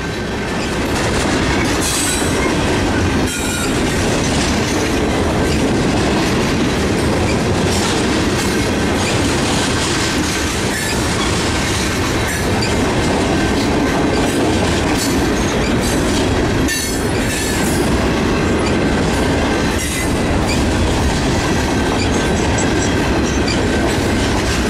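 A short-line freight train passes close by in Shepherd, Michigan: a loud, continuous rumble and clatter of wheels on rails, with occasional squeals, steady throughout.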